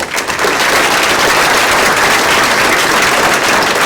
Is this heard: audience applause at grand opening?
yes